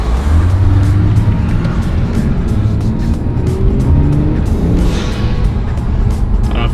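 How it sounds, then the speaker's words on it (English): Engine of a 2021 Kia Stinger GT1 with dual blow-off valves, heard from inside as the car pulls under load, a steady low drone with a brief hissing vent burst near the end. "If you heard that, that was the sound of the blow-off."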